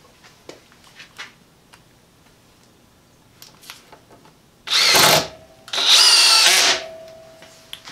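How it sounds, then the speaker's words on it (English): Two short bursts of a Craftsman cordless drill driver whirring as it drives a fastener, the second slightly longer, after light clicks and handling noises, with no talking. "Let's get a drill driver."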